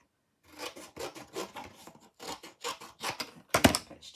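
Scissors snip through card in a quick series of short, crisp cuts, each a brief rasping bite close by, with small pauses between and a louder final cut near the end.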